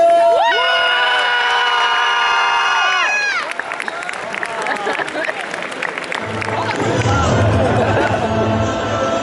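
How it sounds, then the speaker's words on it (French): After a sustained tonal swell, a crowd at a cosplay show for the Psylocke performance at TGS 2017 erupts in dense applause and cheering, with shouts over it and thumping music entering toward the end. "Tonnerre d'applaudissements s'il vous plaît"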